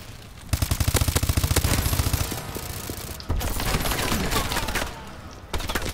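Rapid automatic turret fire in Call of Duty Advanced Warfare multiplayer sounds as a fast, evenly spaced stream of sharp shots. It breaks off, returns in heavier bursts over other combat noise, and ends in a final short volley.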